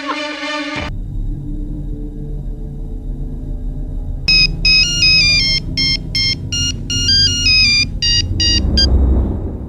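A mobile phone ringtone in a tense drama scene plays as a loud, repeating electronic melody of short bright tones in the second half, over a low steady background hum.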